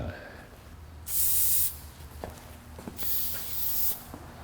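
Two bursts of silicone spray onto differential bushings on a Ford Fairmont, each a loud close hiss of about half a second to a second, separated by quiet handling clicks.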